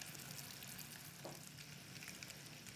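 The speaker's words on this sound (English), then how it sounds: "Our sugar mix has now been boiling away for 5 minutes" A sugar mixture boils for caramel toffee, giving a steady, soft, even bubbling hiss that continues throughout without pauses.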